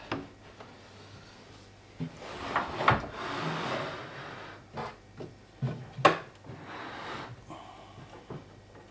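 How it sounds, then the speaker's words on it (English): Wooden drawer sliding and bumping with scraping rubs and a few sharp knocks, close by, in short bursts with pauses between. "So I need to slide the drawer out"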